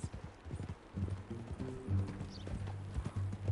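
Horse hooves clip-clopping in Red Dead Redemption 2, a steady run of close hoofbeats with an occasional snort, under quiet speech from a character.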